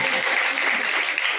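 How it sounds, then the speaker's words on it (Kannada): A crowd at an outdoor honouring ceremony for guests and artists claps loudly and continuously, a dense close wash of applause throughout. "ಅವರಿಗೆ ಜೋರಾದ ಚಪ್ಪಾಳೆ"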